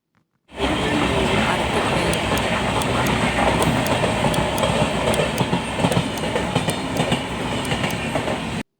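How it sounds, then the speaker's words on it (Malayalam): Passenger train travelling from Tirur to Aluva, a steady loud rumble of wheels on track with faint rhythmic clicks, continuous throughout and no voices. "തിരൂരിൽ നിന്നും ആലുവയിലേക്ക് ട്രെയിൻ കയറി"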